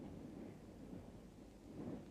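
Distant thunder rolls low and soft on a warm evening before rain, a steady faint rumble that swells slightly near the end.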